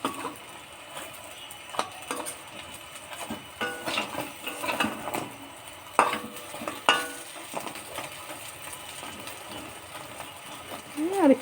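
Leaf fritters frying in a pan of oil, a continuous close sizzle broken by scraping and clinking as they are turned, with a voice talking intermittently over it.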